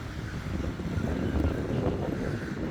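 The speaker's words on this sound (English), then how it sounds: "it's a little bit windy" Strong wind at the end of Central Pier in Blackpool buffets the microphone in a continuous low roar, steady and unbroken, with no voices.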